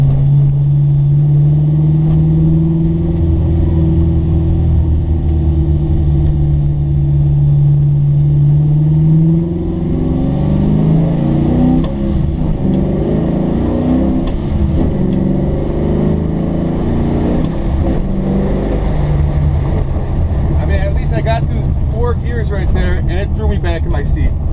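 A 1965 Chevrolet Chevelle engine rumbles loudly up close, holding a steady drone, then revs up and shifts through rising and falling pitches while someone talks over it.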